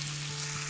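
Beef sizzles and fries in a wok of rendered mutton and beef fat, a bright steady crackle close by with no talking.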